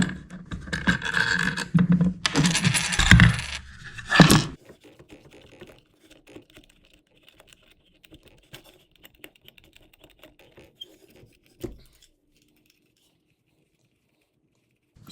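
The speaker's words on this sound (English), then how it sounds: "take this bolt and wing nut off, and then also take the washers off" Bolt, wing nut and washers being taken off a chainsaw mill setup, close rattling and clicking metal handling at first, then sparse faint clicks and one louder clunk.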